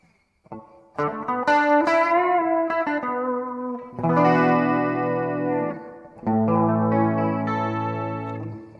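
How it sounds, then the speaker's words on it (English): An electric guitar run through PCM synth and guitar modeling, voiced like a Gibson 335 doubled in unison with an electric piano, playing a few quick notes and then sustained, ringing chords with chorus and reverb, clear and up front, no voices. "This one is trying to make my guitar sound like a Gibson 335 with an electric piano in unison."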